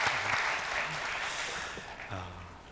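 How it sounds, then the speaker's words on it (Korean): A church congregation clapping after a men's choir ensemble performs, a dense, close round of applause with a voice speaking over it at the start and end. "우리 박수하겠습니다."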